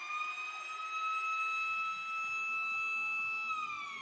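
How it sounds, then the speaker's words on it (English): A loud, steady siren tone sounds continuously at close range inside an ice hockey arena during a women's NCAA game, holding one pitch before sliding down slightly near the end. "As we get the siren here at the AIA."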